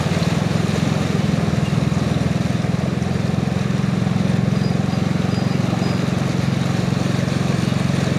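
A high-riding motorcycle pushes through deep floodwater in a low-lying flooded area, its engine droning steadily and loudly throughout with a constant low rumble and no break.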